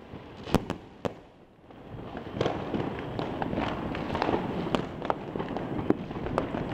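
New Year 2011 fireworks explode over Buenos Aires in a continuous crackling barrage. Sharp bangs stand out at irregular intervals, some near and loud, others more distant.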